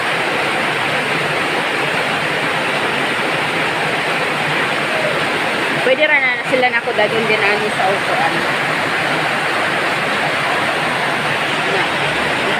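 Heavy rain pours onto a house roof and leaks through it, making a dense, continuous roar with no let-up. A voice speaks briefly in the middle over the downpour.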